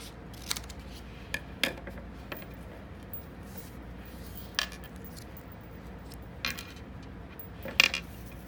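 A strip of mosaic pieces is being cut, with sharp, isolated snipping clicks spaced irregularly over a quiet room background, about eight cuts in all, each faint and brief.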